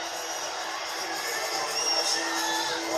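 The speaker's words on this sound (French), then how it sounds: "On les entend, les supporters." Supporters in a kickboxing arena cheer and shout for a fighter's ring entrance, a dense, steady crowd roar with scattered whoops throughout.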